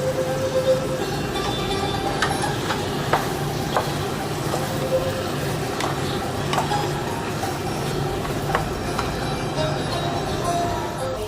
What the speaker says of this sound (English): You put your meat, you start frying it, okay?